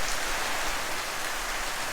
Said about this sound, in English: check that rain out, that is unreal